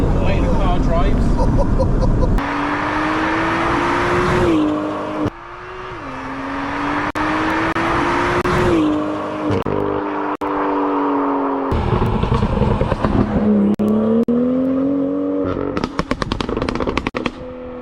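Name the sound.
BMW M2 with stage 1.5 package driving and accelerating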